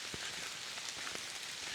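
Rain falls steadily around an overnight camp, a dense, even hiss with faint scattered drop taps, unbroken and without voices.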